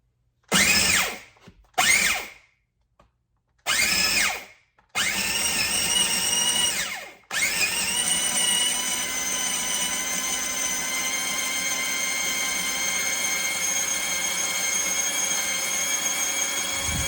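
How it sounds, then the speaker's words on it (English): An old food processor grinds Himalayan salt, sea salt and herbs, starting with several short loud whirring pulses separated by gaps, then settling into a long continuous high-pitched motor whine with rattling grit. "For an old food processor, this does such a great job."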